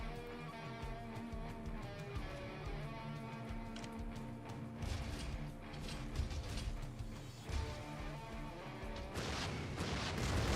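Weapon reloading in the Kriegsfront Tactics mech war game, a steady run of mechanical clicking, ratcheting and gear-like clatter over a dense, busy game soundscape with occasional heavier crashes.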